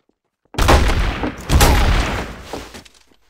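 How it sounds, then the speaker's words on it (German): Gunfire in the video game Trouble in Terrorist Town sounds as a loud, close burst of rapid shots. It is followed by a few more scattered cracks that fade out, with no talking. "Wer schießt denn hier die ganze Zeit?"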